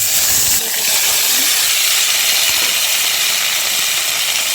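Lote stalks hit hot oil in a wok (karai) for a Bengali lote chorchori with sesame: a loud, close, continuous hissing sizzle that bursts at the start and holds steady throughout.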